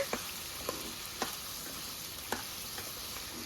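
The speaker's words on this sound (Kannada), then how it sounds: "ಒಂದು ಸ್ವಲ್ಪ ಉಪ್ಪು ಅರ್ಶಿನ ಪುಡಿ ಹಾಕಿ ಹುರ್ಕೊಳ್ಳೋಣ" Okra fries in a pan with salt and turmeric, giving a steady soft sizzle punctuated by a few sharp spatula taps and scrapes as it is stirred, no talking.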